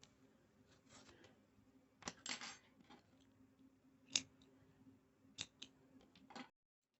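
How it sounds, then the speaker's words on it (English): Scissors snip through crochet yarn in a few short, crisp cuts spread across a quiet moment, each a sharp close click with soft handling noise between. "cut your yarn because we are done"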